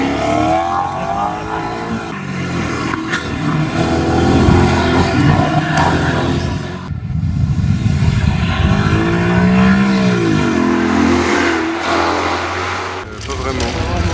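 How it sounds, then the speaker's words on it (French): A Maserati Quattroporte with a 4244 cc, 400 hp V8 revs and accelerates close by at a historic hill-climb event, its engine note rising and falling continuously. "le même moteur V8 de 4244 cm3 qui développe 400 chevaux"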